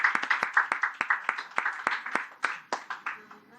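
Clapping at a children's Christmas event: a small group applauding in quick, uneven bursts of sharp hand claps, fairly close, fading slightly toward the end.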